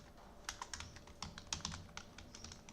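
Quick, irregular key taps on a computer keyboard, close and fairly soft, as a message is typed out in a quiet room.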